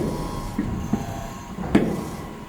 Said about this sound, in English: I'm going to show you just a second that we have a good smooth running tumbler now.